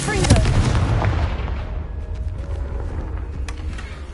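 Confringo fire spell explosion in the Hogwarts Legacy video game: a loud, sharp blast opens the clip, then a rumbling, crackling tail slowly fades across several seconds, with a faint voice briefly heard.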